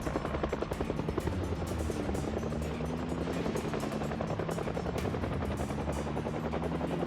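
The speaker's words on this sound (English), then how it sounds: "the heli was still just barely following me" A helicopter in the Project Zomboid video game thumps with steady rotor chopping and a low droning hum, loud and continuous throughout with no voices.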